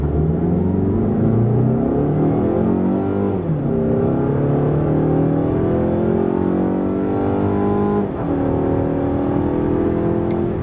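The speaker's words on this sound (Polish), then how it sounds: "samochód tak przyspiesza od 0 do setki." A 2026 Mazda CX-5 with a 2.5-litre 141 hp mild-hybrid engine accelerates hard from standstill to 100 km/h, its engine note rising steadily through the gears with dips at each shift, loud and continuous from inside the cabin.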